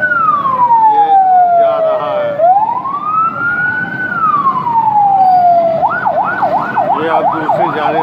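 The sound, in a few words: ambulance siren in traffic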